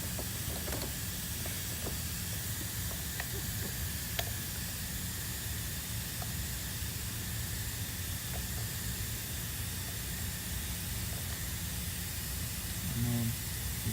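Steady broadband hiss of compressed air leaking past the piston rings during an engine leak-down test, constant and unbroken for the whole stretch at moderate level, with a faint low hum underneath.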